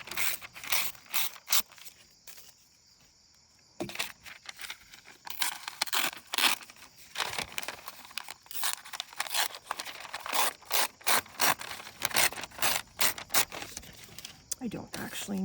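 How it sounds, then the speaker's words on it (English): Scissors cut through a dictionary page, with a series of crisp snips and papery rustles, some sharp and close, interspersed with a person talking. "So let's go ahead and cut this. This is dictionary page."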